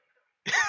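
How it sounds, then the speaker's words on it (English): A single short, harsh cough from a character in Xenoblade Chronicles Definitive Edition bursts out after a moment of near silence. "He's coughing."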